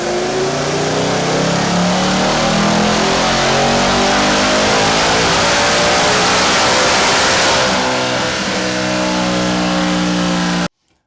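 A Whipple-supercharged S650 Mustang engine roars through a 7th-gear dyno pull, its loud, rising drone climbing steadily for about ten seconds before cutting off abruptly into silence.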